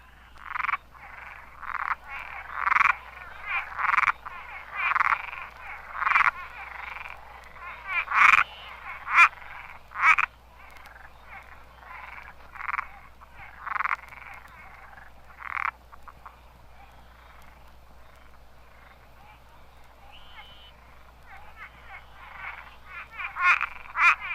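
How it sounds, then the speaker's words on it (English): A giant tree frog (Hyla septentrionalis) calls from a roadside pond at night on Upper Matecumbe Key, Florida, giving repeated rasping croaks in irregular bursts. A narrow-mouthed toad bleats faintly in the background. "giant tree frog, Hyla septentrionalis, is a recent invader from the West Indies. It now calls from a roadside pond on Upper Matecumbe Key, Florida"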